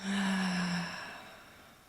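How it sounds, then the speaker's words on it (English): A single audible exhale during a guided breathing exercise, a soft breathy sigh that starts full and fades out gradually over about a second and a half, close and alone with no talking. "And an audible exhale, letting it go."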